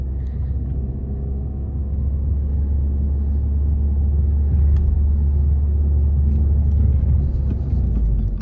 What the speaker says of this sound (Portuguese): Olha só a reduzida de marcha.